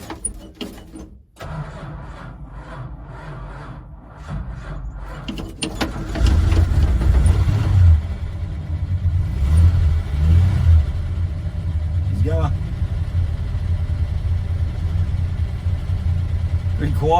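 A Dodge VJ ute engine starts with a jump start and then runs at a steady idle, close and fairly loud, following a quiet start and some brief voices.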